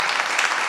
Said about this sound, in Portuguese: Eu peço até uma salva de palmas aqui para o Rafael.